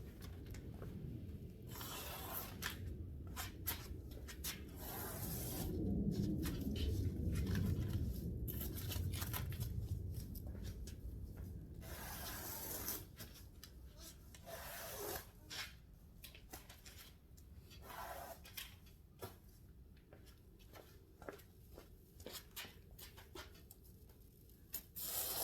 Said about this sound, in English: get your old trusty razor blade. I'll cut the large excess off, and then I'll flip the board over.